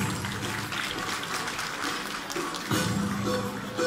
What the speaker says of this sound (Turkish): Değerli alkışlarınızla.